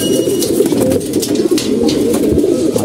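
Pigeons in a loft, pairing up for mating, coo in low, throaty, rolling calls that overlap continuously, loud and close with no talk.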